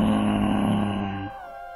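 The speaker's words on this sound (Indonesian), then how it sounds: "Suara raungan Meong Hideng juga terdengar dari samping reruntuhan." A spirit cat, Meong Hideng, lets out a loud, deep, sustained growling roar with a rough buzzing tone that cuts off abruptly and leaves a faint tail, an audio drama effect with no talking.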